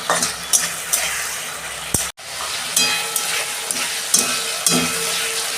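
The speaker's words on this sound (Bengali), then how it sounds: "আমি মশলাটাকে ভালো করে কষাবো।" Spice masala fries in a pan with a loud, close, crackling sizzle while a spoon stirs and scrapes, breaking off sharply for a moment before the frying and scraping go on. No one talks.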